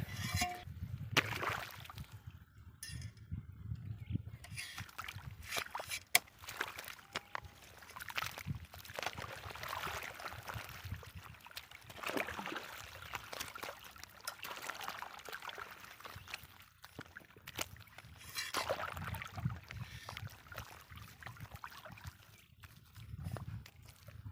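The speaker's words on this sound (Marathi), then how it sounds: "हे बघा असं पाणी चालू आहे मस्त आता" Water pouring from a pipe into a farm field, a faint, continuous rushing flow with uneven surges and no pauses.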